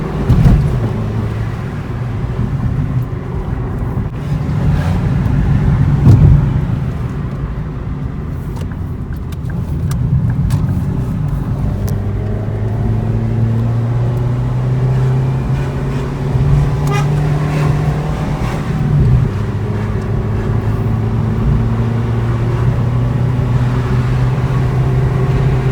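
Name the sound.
Ford Fiesta 1.25 60 hp car driving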